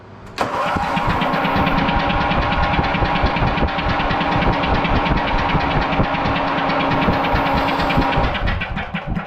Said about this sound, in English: we are pumping fuel now